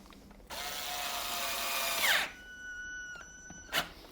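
A power driver whirs for about one and a half seconds as it runs a nut onto a 10mm bolt on a plastic tool tray, rising in pitch before stopping abruptly, followed by a short second burst of the motor.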